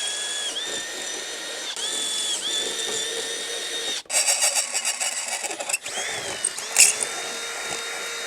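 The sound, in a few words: bolting bar onto motorcycle fender brace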